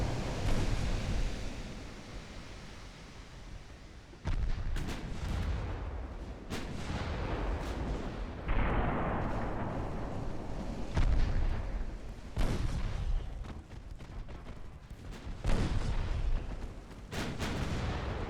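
Battleships fire heavy artillery in a naval warfare video game, deep booming salvos arriving every few seconds, each followed by a rumbling roar over steady background noise.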